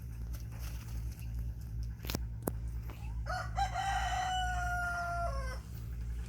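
A rooster crows once in a long, drawn-out call, moderately distant, over steady background hum with a couple of sharp clicks before it.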